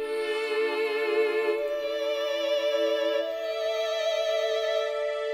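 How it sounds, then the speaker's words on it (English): An orchestral string section sample from an FL Studio stock plug-in: bowed strings sustain a smooth, gently vibrating chord, layered and steady at moderate volume, with no breaks or other sounds. "This is the strings section"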